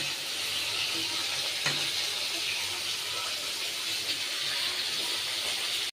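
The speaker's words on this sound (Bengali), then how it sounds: "এই যে বন্ধুরা দেখো মাছ ভাজা হয়ে গেছে" Fish fry in hot oil, a steady dense sizzle and hiss that holds evenly throughout, with small pops and crackles scattered through it.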